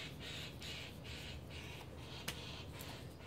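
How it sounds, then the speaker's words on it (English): Crows outside caw in a steady series of harsh, evenly spaced calls at moderate distance, with a faint click partway through and no talking. "You're scaring the birds, Dio."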